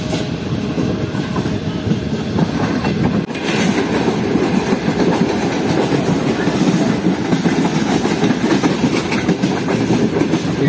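Karachi Express passenger train running at speed on rails in Pakistan, with a steady loud rumble and continuous clickety-clack of wagons rolling over track joints, heard close from inside the coach.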